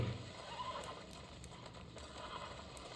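A horse galloping in the video game Red Dead Redemption, played on a Nintendo Switch Lite: a quiet, continuous run of hoofbeats under a faint game soundscape with a few soft, higher clicks.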